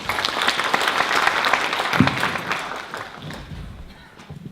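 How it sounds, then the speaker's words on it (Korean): An audience at a church symposium panel discussion claps loudly to welcome a panelist, a dense burst of applause that fades out toward the end, with a voice talking over it. "큰 박수로 맞이해 주십시오."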